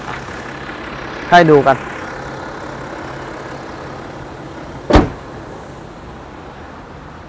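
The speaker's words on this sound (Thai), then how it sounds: "เสียงเครื่องยนต์ดีเซลนะครับเงียบมากนะครับ" A BMW X6 30d diesel idles quietly and evenly at close range, a low steady hum, while someone speaks briefly over it and a short click or tap sounds near the end.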